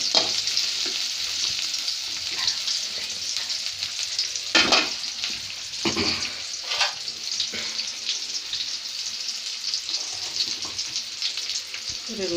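Onions frying at medium heat in a pan for a Bengali vegetable fritter dish, a steady close sizzle with a few louder scraping stirs around the middle.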